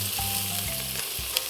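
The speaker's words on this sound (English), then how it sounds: "we're going to start by caramelizing some onions first with some oil, some garlic, pimento." Onions with garlic and pimento sizzle in hot oil for a Trini smoked herring stew, a loud, continuous close frying hiss broken by a few low pan knocks, with no speech.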